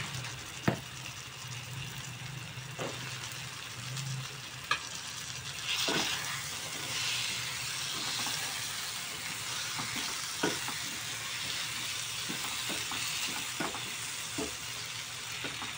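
Chickpeas stirred into masala frying in a pan for chana masala, a steady close sizzle broken by occasional sharp scrapes and clicks of the spoon.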